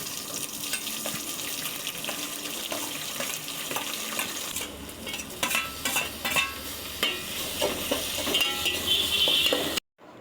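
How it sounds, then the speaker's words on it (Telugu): Biryani whole spices with onion, tomato and green chilli frying in oil in a pot on the stove, with steady stirring and scraping, running water and clatter mixed in, fairly close, and a brief dropout at the very end. "ముందుగా స్టవ్ మీద గిన్నె పెట్టి గిన్నెలో ఆయిల్ వేసి బిర్యానీ మసాలా దినుసులు వేసి ఫ్రై చేసుకోవాలి."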